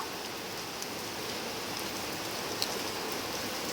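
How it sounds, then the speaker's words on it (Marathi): Heavy rain pours steadily in Mumbai, a dense, even hiss of falling water that stays constant and fairly loud throughout, with no voices. "पाऊस पडतोय बघा खूप पाऊस पडतोय"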